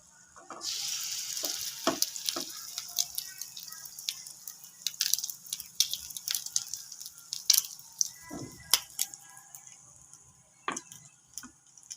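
A potato, chicken and egg sandwich dipped in batter sizzles steadily in a frying pan, with sharp pops and crackles scattered over the hiss and occasional clinks of a utensil nearby.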